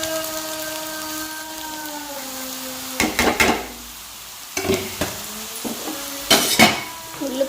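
Chopped onion and grated carrot fry in oil in a pan. A soft sizzle runs under intermittent loud scraping and clattering stirring strokes, with a faint tonal hum early on.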